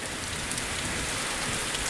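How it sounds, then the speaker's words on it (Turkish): Dense, steady patter of hail striking surfaces all around on a road near Sarıkamış, Kars, Turkey, constant and fairly loud with no voices. "Bildiğin dolu yağıyor"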